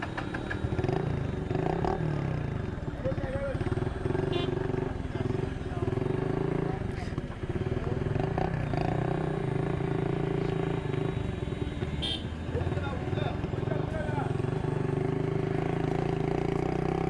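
A motorcycle rides along a road in West Africa, its engine drone steady and continuous throughout with some clatter, while a person talks over it.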